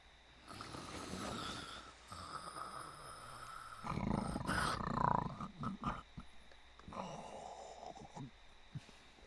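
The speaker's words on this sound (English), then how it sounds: "Her loud snores a familiar sound to Rakusho's ears." Loud snoring in Granblue Fantasy rises in a few long, rumbling, drawn-out breaths with throaty snorts, strongest in the middle, and a voice is heard faintly in the background.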